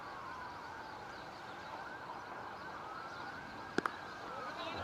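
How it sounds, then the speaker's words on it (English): Emergency vehicle sirens wail faintly in the distance during a cricket match in Malta, a continuous rising and falling tone over a steady background hum. "I can hear a lot of sirens."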